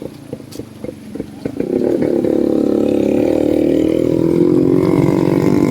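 Motorcycles ride along a rural road beside farmland near Agos River, a loud engine roar that swells in close after a few light clatters and then holds steady, with no talk.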